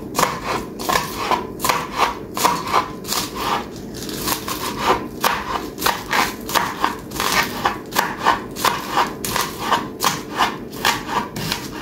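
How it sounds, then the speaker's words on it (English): Scallions are coarsely chopped with a knife on a board: a fast, steady series of crisp rhythmic cuts, close and moderately loud, with no talking. "I'm coarsely chopping my scallions here."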